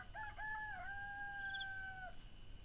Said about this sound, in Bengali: এখনই মুরগিতে কুকুরুকু ডাকছে।